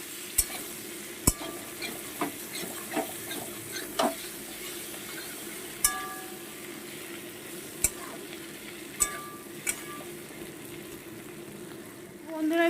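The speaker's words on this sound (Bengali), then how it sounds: "এবার সুন্দর করে আর একটু দু মিনিট কষিয়ে নেব আদা আর যে মশলাটা দিলাম" Ginger, ground coriander and Kashmiri chilli powder frying together in a pan, with a steady low sizzle under repeated sharp scrapes and clicks of a spatula against the metal, spaced a second or two apart.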